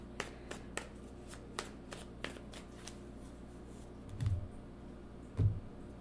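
Tarot cards shuffled and drawn by hand, a run of sharp, crisp card flicks and snaps spaced through the first half, followed by two soft, low thuds as cards are set down, recorded close in a quiet room.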